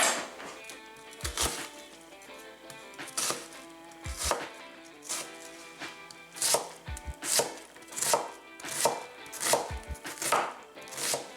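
Knife chopping food on a board for venison chili, a series of crisp regular chops in a steady rhythm, close and clear, with no voices.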